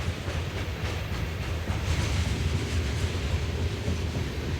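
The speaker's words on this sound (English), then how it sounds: "This train, to the best of my knowledge, runs from Corbin, Kentucky to Charleston, South Carolina" A CSX coal freight train from Corbin, Kentucky rolls past with a steady, dense rumble and low clatter throughout, fairly close and continuous with no voices.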